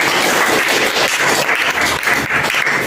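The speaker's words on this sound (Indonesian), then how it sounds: "Aplaus untuk kelompok ini." Classroom applause for a small student group after their presentation, a steady dense wash of clapping filling the whole moment without pause.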